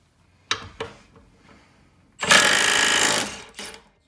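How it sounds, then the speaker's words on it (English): A Milwaukee M12 Fuel 3/8-inch stubby impact wrench at speed 3 spins off a 1 5/16 nut: a couple of short taps, then a loud, steady hammering burst of about a second, close to the mic, followed by a brief final rattle. "And this is a 1 5/16. And we're going to go at that in speed 3 also."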